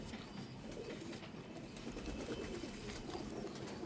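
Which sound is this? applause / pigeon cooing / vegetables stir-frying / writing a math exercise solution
pigeon cooing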